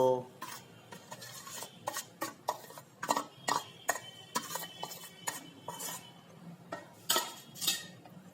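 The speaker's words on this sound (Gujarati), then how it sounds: "સરસ રીતે હવે અંદર મિક્સ કરી લઈશું" Custard apple pulp stirred into thickened milk for rabdi, a spoon clinking and scraping against a metal pot in irregular close taps and knocks, moderately quiet, with no talking.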